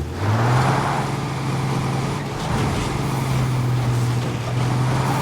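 A truck in the State of Decay 2 video game drives steadily with a constant engine drone and low hum, rising slightly as it moves, with no talk over it.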